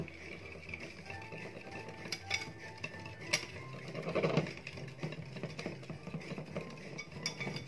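Chocolate mousse mixture stirred in a bowl, a steady soft scraping and swishing of utensil against the bowl with a few louder clinks, close and alone without talk.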